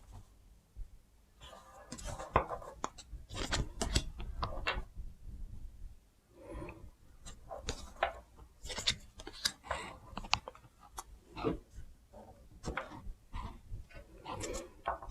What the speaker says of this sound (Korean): 지금 셔플하는 카드는 셀프케어라는 카드이고요.